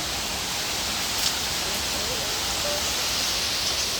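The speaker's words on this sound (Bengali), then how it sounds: "এখন ছোট ছোট বৃষ্টি পড়ছে" Light rain falls in a steady, soft hiss, even and unbroken throughout, with no voices.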